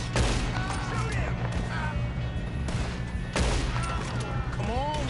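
Gunfire in Red Dead Redemption 2 aboard a train holdup, with rapid volleys of close shots over a rumbling background and shouted voices mixed in.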